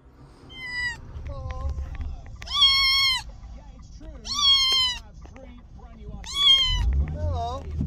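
A newly collected kitten meows repeatedly from a carrier, four or five drawn-out, high, tonal cries spaced a second or two apart and heard close, with some handling rustle and low background noise between them.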